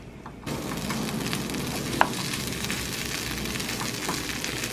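Plant-based vegetarian chorizo sizzles as it browns in a pot without added oil, cooking with lentils for a vegetable lentil soup; a steady, close crackling fry with a single brief clink partway through.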